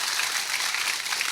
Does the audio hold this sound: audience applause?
yes